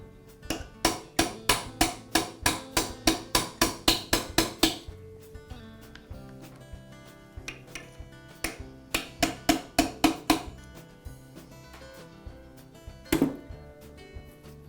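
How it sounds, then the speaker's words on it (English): A metal punch hammered against a rusted spindle stuck in a ring clamped in a vise, giving sharp ringing strikes in quick rhythmic bursts with pauses between, close and loud. "use a punch to tap the spindle out"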